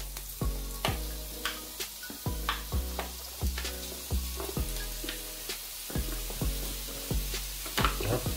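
Onions and lardons fry in a pan for tartiflette, a continuous sizzle punctuated by a steady series of repeated knocks and clinks from stirring.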